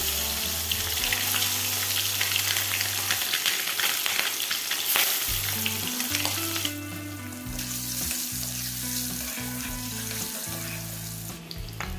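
Eggs rubbed with salt and turmeric fry in hot oil, giving a steady close sizzle and crackle throughout, with a low background hum that shifts partway and no voices.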